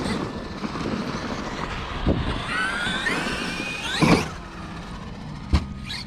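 A Traxxas XRT RC truck with belted tires leaps off a ramp with no throttle applied, giving a rushing whir and rattle, then a thump at landing and a second sharp knock shortly after, heard at moderate distance.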